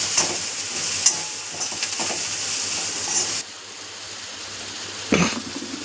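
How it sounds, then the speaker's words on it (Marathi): Spices and homemade chili powder roasting in hot oil for matar paneer, a soft steady sizzle broken by occasional scraping stirs and clinks, with a brief louder rustle near the end. "सगळा मसाला मी तेलामध्ये असं छान त्याची भाजून घेते."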